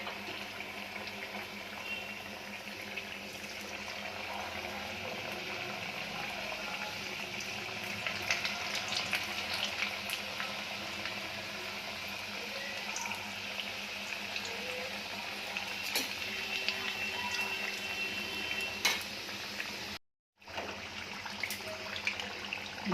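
Fried pitha cakes sizzle in hot oil with a steady, fairly quiet hiss and bubbling that holds evenly throughout, with no talking over it.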